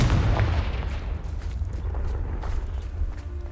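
A Confringo spell explodes in Hogwarts Legacy on PS5, giving a loud, booming blast with a heavy low rumble that rolls on and fades slowly, with no voices over it.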